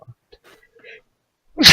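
A loud, close sneeze bursts out at the end, after a stretch of scattered faint voices and small sounds during a tabletop role-playing game session.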